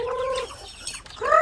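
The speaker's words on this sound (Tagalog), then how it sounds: "this is our chicken" A native chicken clucks close by in two short, loud, tonal calls separated by a brief pause, heard on its own with no talk.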